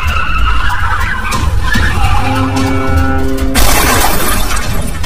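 A car skids with rising tire squeal and engine roar, then crashes with a loud burst of shattering glass and metal, a dense and loud sound-effect sequence with no voices.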